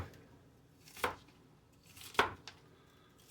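Knife chopping food on a cutting board in a home kitchen during holiday cooking prep, two distinct sharp cuts about a second apart with a faint tap after, fairly quiet in a still room.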